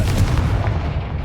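A Confringo spell blast from Hogwarts Legacy bursts out as a short, loud, booming explosion with a rumbling low-end tail that fades quickly.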